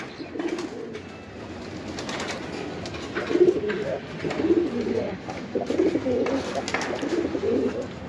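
Chila Giribaz pigeons coo continuously nearby, several birds' low rolling calls overlapping in pulses and swelling louder toward the end.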